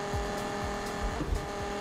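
A Dodge Viper racing at very high speed in Need For Speed, its engine a steady, moderately loud drone with faint low pulses running throughout, and no talking.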